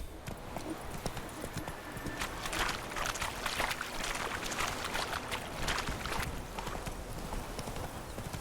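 Roach, a horse in the video game The Witcher 3 on Xbox Series X, gallops with steady, rapid clip-clop hoofbeats that run throughout, close and fairly loud over game ambience.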